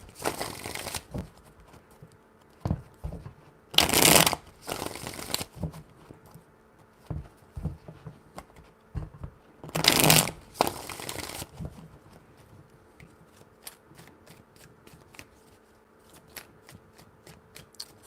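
Tarot cards are shuffled by hand in three bursts, sharp riffling rushes around the start, middle and toward the end, separated by softer taps, flicks and handling of the deck up close.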